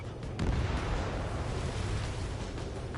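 Missile launch in the Ace Combat 7 combat flight game: a loud, sustained roaring whoosh with dense low rumble, filling the whole moment with no speech over it.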